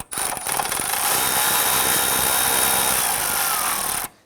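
A power tool, likely a ratchet or driver, whirs continuously for about four seconds at close range, tightening the battery hold-down bracket on a 2006–2012 Toyota RAV4 3.5L; no talking.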